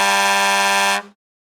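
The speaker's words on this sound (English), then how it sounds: "This is the sound a fire truck makes." A fire truck's horn blasts as one loud, sustained, steady tone for about a second, then cuts off abruptly into silence, with no other sounds around it.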